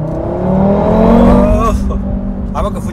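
An Audi RS3's 2.5-litre engine revs up and pulls hard in sport mode, its pitch climbing steadily, loud and close, with a voice briefly speaking near the end.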